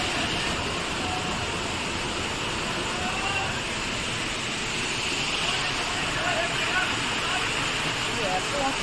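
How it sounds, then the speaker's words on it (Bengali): A distant waterfall swollen by rain roars steadily as a broad, unbroken wash of rushing water that stays loud and even throughout, with no break or change in level. "তারা ভাবো কত জোরে পড়ছে জলটা।"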